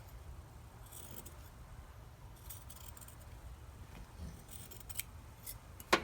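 Scissors cut through quilted fabric, trimming excess from an oven mitt's thumb seam: quiet, scattered snips with a louder final cut near the end.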